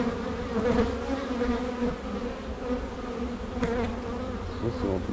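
Agitated honey bees buzz continuously at close range around open hive frames, a dense droning hum with rising and falling intensity and occasional louder passes near the listener.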